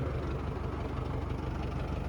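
A tractor engine runs at a low, steady rumble in a muddy field, quiet and somewhat distant, with no voices heard.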